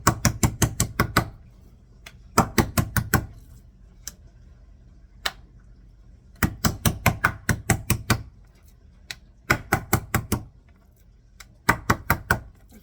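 A meat mallet pounds pork slices flat for schnitzel in sharp, rapid bursts of five or six thuds. Short silent pauses separate the bursts, and the hits are close, loud and alone, with no talk.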